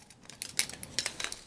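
A Fire Maple titanium camping stove and cook kit are handled, giving a quick run of light, bright metallic clinks and taps close by.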